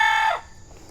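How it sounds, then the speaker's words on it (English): Farm chickens give a bright, loud cluck or crow-like call that cuts off abruptly, followed by quiet background. "And these are the chickens."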